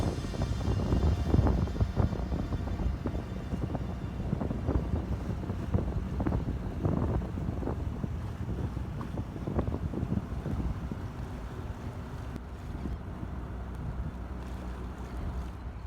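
A dinghy motors across a sailboat anchorage toward a dinghy dock near Charleston, South Carolina, its outboard drone steady and continuous beneath heavy wind buffeting on the microphone, with no talking.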